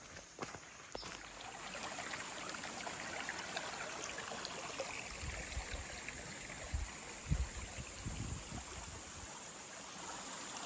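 Creek water trickles and gurgles around a person standing in it on the Ozark Highlands Trail, a soft continuous flow with occasional splashes and shuffling movements in the water.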